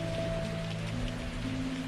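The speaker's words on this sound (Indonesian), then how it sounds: "Ia menatap rintik hujan yang jatuh di pagar balkon." Light drizzle patters softly and steadily onto a balcony railing, a faint, even hiss of small droplets with no voices.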